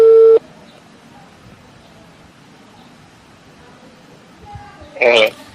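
Telephone line tones after a number is dialed: a loud steady tone cuts off, a soft hissing line follows, then a higher warbling ring tone swells near the end.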